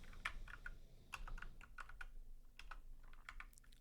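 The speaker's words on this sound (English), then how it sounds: "You can see it on your keyboard by pressing this Alt-GR key and that button." Quiet, close taps and clicks on a computer keyboard come in short irregular bursts, a few keys pressed at a time, with no voices over them.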